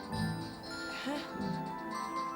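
A telephone rings indoors in a household scene, a steady electronic ringing tone repeating for a couple of seconds at moderate loudness with faint background voices.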